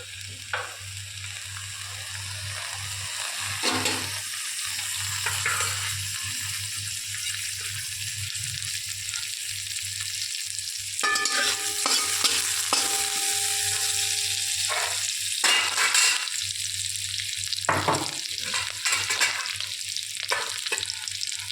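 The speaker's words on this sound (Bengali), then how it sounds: "একটু ভাজা ভাজা করে নিতে হবে" Chopped greens, garlic, black cumin and dried chillies fry in oil in a wok with a continuous close sizzle, broken by occasional stirring scrapes and utensil clinks.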